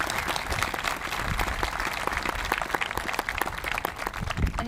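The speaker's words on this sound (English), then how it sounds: "So please let's give another round of applause for Mr. Leslie." A crowd at a 2022 high school graduation ceremony gives a round of applause. The clapping is loud, continuous and densely packed, with no break for the whole stretch.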